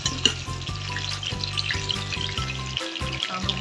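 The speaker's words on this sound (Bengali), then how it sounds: "এখন চলুন তাহলে প্রথমে আমি আলুগুলো একটু ভেজে নেব" Potatoes frying in hot oil, a steady close sizzle with a low droning tone underneath for the whole few seconds; no one speaks.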